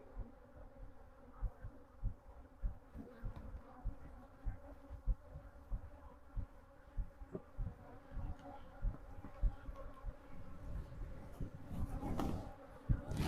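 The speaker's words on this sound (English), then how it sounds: "Boy, that is covered with bees." Honey bees crowd a hive frame with a dense, continuous buzz close by, broken by frequent soft knocks and rustles as the frame is handled, and no speech.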